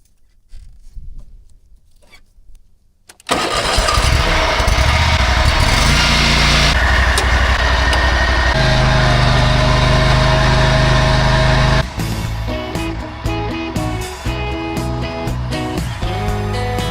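A muddy lawn mower engine bursts into life after a few seconds of quiet handling noises, then runs loud and steady close by, shifting to a rougher, choppier idle near the end.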